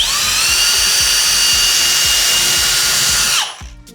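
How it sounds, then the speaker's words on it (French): A power drill bores pilot holes for screws into timber reinforcement battens during plasterboard renovation work, a loud steady high whine with a pulsing low chatter that runs continuously before spinning down abruptly near the end. "on va pré-percer de la moitié du diamètre de la vis"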